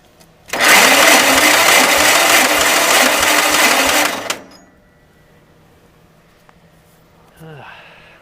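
Rough metal-on-metal grinding from an old engine, suspected broken connecting rod, as it cranks hard for nearly four seconds and cuts off; a person speaks briefly afterward.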